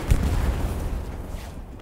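Explosion in the World War II shooter game Hell Let Loose, a loud low booming blast opening the moment and rumbling on through a dense wash of battle noise before fading.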